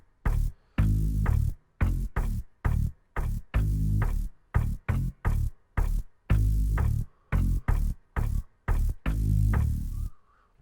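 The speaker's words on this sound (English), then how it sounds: "it's a bit of a lazy bass line" A jungle-track bass line in D repeats a lazy three-note riff in choppy, gated bursts. The low notes are heavy and throbbing, with short gaps between phrases and no talking.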